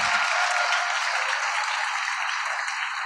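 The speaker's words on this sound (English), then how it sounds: "Can you guys give them a round of applause as well?" An audience at a school district Pathfinders ceremony applauds a speaker's parents, with dense, steady clapping that fills the hall and stays loud and even throughout, with no talking over it.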